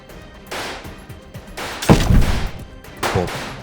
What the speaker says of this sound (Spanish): otro camión los sorprendió y los disparos comenzaron.